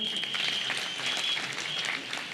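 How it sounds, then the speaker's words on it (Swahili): Members of parliament are applauded by a large crowd at Madaraka Day celebrations in Kinoru Stadium, Meru County. The clapping is dense and sustained, heard from a distance across an open stadium, and it fades slightly toward the end. "Hawa ndio wabunge wetu, wako wengi, hebu wapigie makofi."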